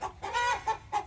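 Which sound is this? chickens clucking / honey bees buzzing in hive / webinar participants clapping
chickens clucking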